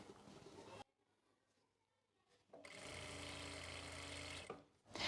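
A sewing machine stitches a salwar edge in a steady, close hum lasting a couple of seconds, preceded by quiet handling and a brief earlier run.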